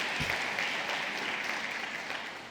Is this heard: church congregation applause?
yes